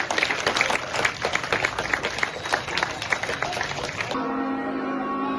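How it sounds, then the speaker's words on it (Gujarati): An audience at a book-library inauguration ceremony in Bhatasan, Kadi, Mehsana claps in a dense, steady burst for about four seconds, then the clapping stops abruptly and a sustained tonal hum remains. "ચલો તાળી"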